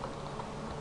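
Faint, steady patter of computer keyboard keys being typed while writing PHP code, a quiet run of soft clicks with no voices.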